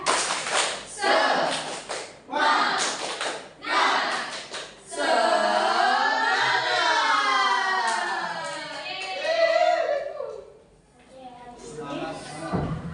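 A first-grade class performs the 'tepuk semangat' clapping chant, rhythmic bursts of group claps mixed with chanting voices, followed by a teacher speaking.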